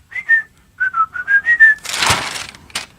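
Someone whistles a short tune of clear, bright notes close by, then there is a burst of breathy noise and a brief rustle.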